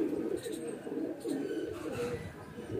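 Baby highflyer pigeons kept as a hobby flock coo softly and steadily, a close, continuous low murmur of several birds with faint chirps above.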